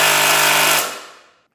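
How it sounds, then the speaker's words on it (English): An impact wrench loosens a lower suspension bolt on a 2025 BMW S1000RR, a loud, close, rapid hammering burst that cuts off and rings down into silence. "today I'll be using an impact"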